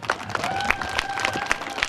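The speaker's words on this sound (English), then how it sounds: "Let's give a round of applause for Joy." An audience applauds a guest, Joy, who has cycled 135 miles, with steady, moderately loud clapping that holds a dense, even texture, sharper claps poking through and a faint sustained tone running underneath.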